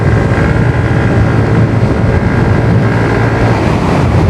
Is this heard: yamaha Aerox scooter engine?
yes